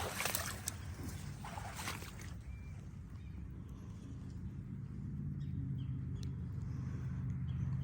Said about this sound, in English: You can hear the cars still off of 41.